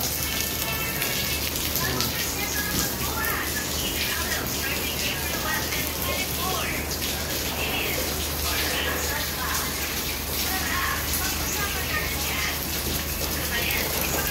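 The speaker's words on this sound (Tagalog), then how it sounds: "Umuulan sa loob ng kusina." Steady rain pours down inside a kitchen with a constant dense patter and splashing, as if hitting surfaces nearby, with a voice talking faintly underneath throughout.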